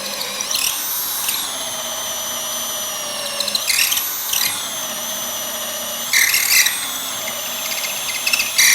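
A power drill whines steadily as it bores into wood, with brief surges and squeals as the bit bites deeper, no voices present.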